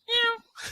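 A pet cat lets out one short, clear meow close by, followed by a brief soft rustle.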